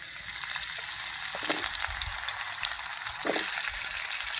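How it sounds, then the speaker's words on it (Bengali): Pumpkin pieces fry in a little hot oil, a steady close sizzle and crackle with a couple of louder bursts of spatter. "আমি কুমড়োটা ভেজে নেব।"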